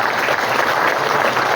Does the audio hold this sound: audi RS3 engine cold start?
no